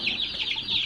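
Chickens clucking inside a backyard homestead coop, a steady close chorus of overlapping clucks and soft calls with no voices over them.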